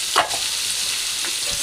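Salted, turmeric-coated kajli fish fry in oil with a steady, close, bright sizzle and hiss, broken by a soft clink or two near the start.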